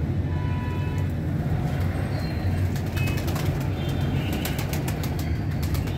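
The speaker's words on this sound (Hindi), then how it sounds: "आज मौसम थोड़ा सा गर्म है तो कबूतरों के साथ साथ कब्बे भी आ गए हैं रोटी खाने के लिए।" Pigeons and crows gathering to eat bread coo and flutter their wings amid a steady low outdoor rumble, with scattered bird calls throughout, on a warm day.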